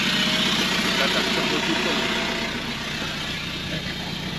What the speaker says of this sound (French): Qui c'est qui a dit que du diesel ça faisait pas de bruit?